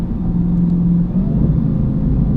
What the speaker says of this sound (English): Making full power, do a 3rd gear roll.